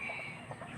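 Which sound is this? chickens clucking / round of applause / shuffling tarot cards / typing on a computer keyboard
chickens clucking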